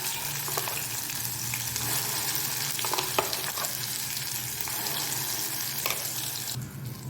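A continuous close sizzle of ground Bengal gram dal chutney frying in hot tempering oil, with occasional clinks of stirring, no talk.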